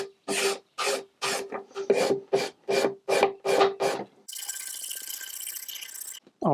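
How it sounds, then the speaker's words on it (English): Hand scraper rasping varnish off thin wood trim in a run of about ten short, even strokes, followed by a steadier, brighter scraping sweep near the mic. "I'm going to use a scraper to take the varnish off"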